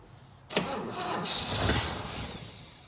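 An engine on a 1966 International pickup truck cranks and catches at once, then keeps running loud and rough, its roar swelling briefly before settling into a steady, close run.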